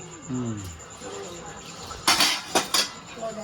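Dishes clatter and clink in a few sharp bursts near the end as they are washed, after a stretch of quiet background noise and a faint voice.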